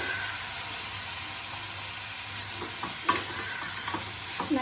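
Steady hiss of carrots, beans and peas frying with onion and tomato in a pan, stirred with a few soft scrapes and knocks near the end, close up and with no speech.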